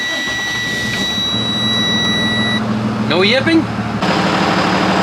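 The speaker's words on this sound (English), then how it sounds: "I'm gonna move the RV out, clean the floor, get the big tractor in." An RV engine runs steadily as the vehicle is moved out, a loud, low continuous rumble under a voice speaking, with a brief rising whine partway through.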